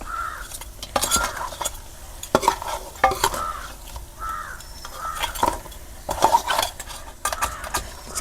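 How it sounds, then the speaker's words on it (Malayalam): Crab curry masala being stirred in a large pot, with repeated scraping and clinking of a utensil against the metal in an uneven rhythm, close and fairly loud over a soft sizzle, with no talk. "ഇളക്കൽ കുറച്ച് ടാസ്ക്കാണ്."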